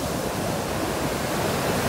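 Raging sea waves, heard as a steady, dense roar of surf that fills the whole short stretch without a break.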